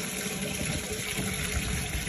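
Water pours steadily from a tap or hose into a pet's outdoor water bowl on a cold, windy morning, a continuous close gush with no pauses.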